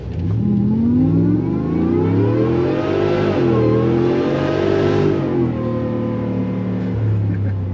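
Supercharged 2019 Ford F150 with a Gen 5 Stage 2 Whipple supercharger launches hard, its engine roaring loud and close with a steady revving drone that climbs and holds for several seconds, with no talking.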